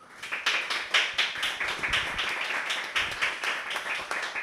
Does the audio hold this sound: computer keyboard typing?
no